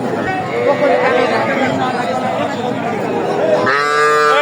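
At a busy cattle market in Ranigonj, Ghoraghat, with young bulls and heifer calves for sale, a nearby animal lets out a loud moo near the end over steady crowd chatter and talking.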